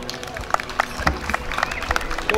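Audience applause at the Copa Cristo Morado 2017 ceremony: scattered, uneven clapping mixed with crowd murmur, moderately loud and sustained for a couple of seconds.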